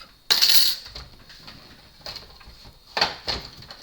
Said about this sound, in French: Et je reprends ma machine de découpe.